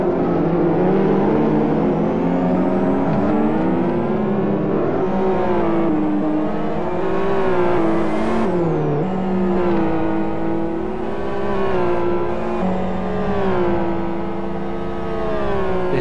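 GT1 race cars from a 2013 GT1 World Series round sweep past, several engines layered into a continuous loud roar with rising and falling pitch as they pass close by and pull away.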